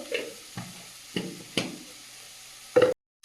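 Ground spices, coriander and cumin powder, fry in a pan, giving a few short sizzling bursts with soft stirring scrapes between them, fairly quiet and close.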